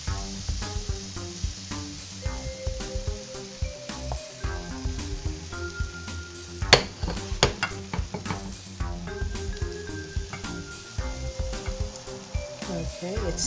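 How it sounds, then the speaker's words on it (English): Caramel slice mixture sizzling steadily in a pan, a continuous crackling fry with clinks and scraping of utensils stirring over it, close and moderately loud, no voices. "Okay, it's still sizzling."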